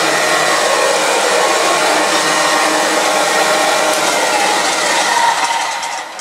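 A refurbished Vactric Junior R45 vacuum cleaner runs on carpet with a steady, loud, continuous motor whine and airflow roar that holds close and unbroken throughout, easing off slightly at the very end.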